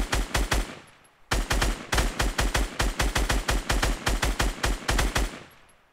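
Automatic gunfire in the video game Fortnite: two long, loud bursts of rapid, evenly spaced shots, the first short and the second much longer, with a short pause between them and a tail of fading echo, no talking over it.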